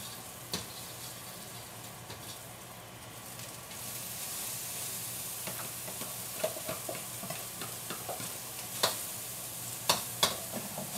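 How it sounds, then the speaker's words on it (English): Egg and rice fry in a hot wok with oil, a steady bright sizzle and hiss under scattered scraping and tapping of a utensil stirring, close and continuous, with no talking. "That's because the pan and the oil are so hot that the egg instantly starts to harden and bubbles up."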